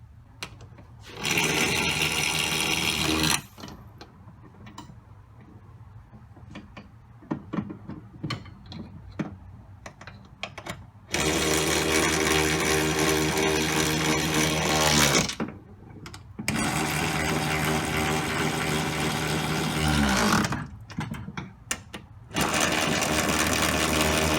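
Screws are tightened on the brake power booster of a 2007 Chevy 2500 4x4 with a power driver, giving several loud sustained whirring bursts separated by quieter gaps with clicks and handling noises.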